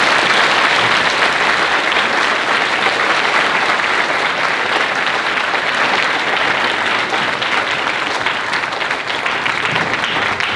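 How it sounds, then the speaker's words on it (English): Sustained applause from the audience at a health and wellness talk, thanking the speakers; a dense, steady roar of many hands clapping that holds loud and even for about ten seconds with no talking over it. "Can we please give our speakers a round of applause?"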